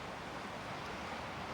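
Ocean waves breaking on a shore produce a steady, faint broadband wash of surf, continuous with no distinct crashes and no voices.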